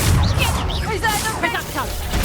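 A Confringo spell blast booms in Hogwarts Legacy amid dueling combat, with heavy low impacts and crackling magical whooshes. Sharp whistling tones rise and fall over the explosions, and a voice shouts briefly.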